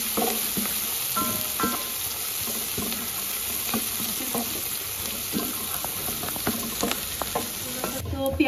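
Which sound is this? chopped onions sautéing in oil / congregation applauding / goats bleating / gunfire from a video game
chopped onions sautéing in oil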